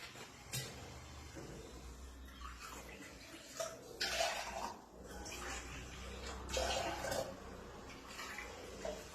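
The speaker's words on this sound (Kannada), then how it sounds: "ಇದ್ರಲ್ಲೇ 4 ಲೋಟ 4 ಬಟ್ಲು ನೀರು ಹಾಕ್ತೀನಿ" Water splashes and pours into a pressure cooker pot in uneven bursts, fairly faint, with a low background hum and no one talking.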